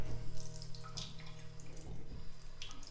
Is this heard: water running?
yes